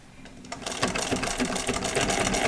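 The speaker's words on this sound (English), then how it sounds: "back stitch a little bit right there." A sewing machine back stitches a seam on a leather bucket bag, a steady close mechanical whirr that runs almost without a break after a short quiet start.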